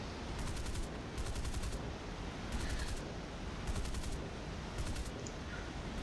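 Aircraft machine-gun fire in the War Thunder video game, heard as five short rapid bursts spaced about a second apart over a loud, steady engine and wind roar.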